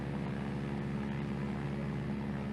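A small tail-dragger propeller plane in the PTFS video game drones steadily, its engine a constant, loud, buzzing hum that holds even throughout, with no talking over it.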